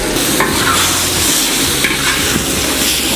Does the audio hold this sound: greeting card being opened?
no